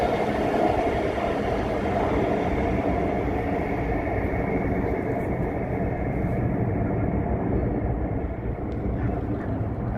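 An Alstom Metropolis metro train, built in India, rumbles steadily nearby as a broad, continuous low roar with no voices, holding level throughout and thinning slightly toward the end.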